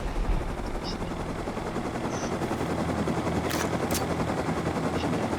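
Sustained automatic gunfire in the survival game Rust, a dense rattling barrage that runs continuously under a droning engine of a minicopter, with a few sharp brief cracks near the end.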